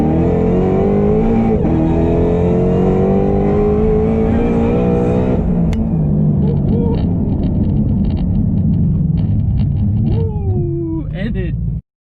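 An 1100-horsepower Shelby GT500 on a stock engine screams up through its revs in a loud, rising wail, then brakes hard on 16.5-inch rotors as the engine note drops away, ending with brief squealing and someone speaking.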